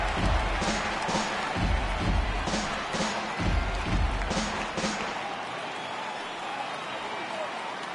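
Baseball crowd at a Cubs versus Marlins game rising and cheering as the count reaches full, a broad sustained roar of many voices with clapping, loud and steady, easing slightly toward the end under a commentator's voice.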